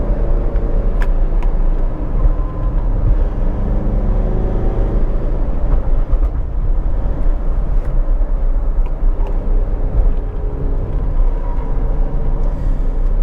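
A 2012 Mitsubishi Pajero Sport 4x4 SUV with a manual gearbox driving through a turn: a steady, loud, rumbling engine and road noise with tire roar, heard continuously from inside the cabin without speech.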